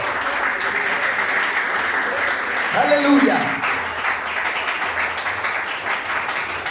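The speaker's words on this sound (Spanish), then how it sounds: "Denle ese aplauso al bendito." A church congregation applauds during a sermon, continuous clapping filling the room while voices call out over it, a brief exclamation rising in the middle before the clapping carries on.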